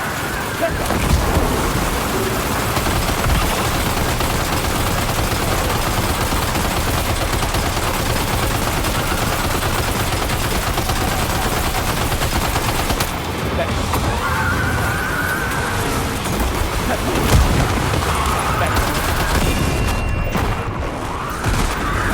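Gunfire in the video game Death Stranding 2: On the Beach, dense continuous shooting and rattling bursts layered over heavy rain-like noise and a rumbling backdrop, loud and sustained throughout, with a brief thinning near the middle.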